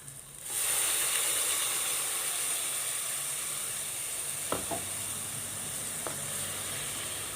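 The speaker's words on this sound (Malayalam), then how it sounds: "അരച്ചു വച്ചിരിക്കുന്ന തേങ്ങാക്കൂട്ട് ഒഴിച്ചു കൊടുക്കുക" Ground coconut paste poured into a hot pan of toasted spice powders for an okra buttermilk curry, giving a steady close sizzle with a couple of brief clinks of utensils.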